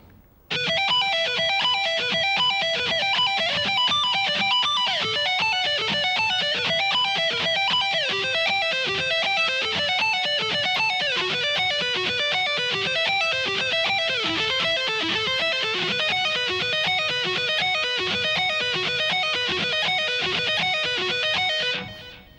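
Electric guitar plays a slow sweep-picked arpeggio exercise, a steady run of distorted, evenly spaced notes rising and falling in repeating patterns for about twenty seconds, loud and alone with no talking.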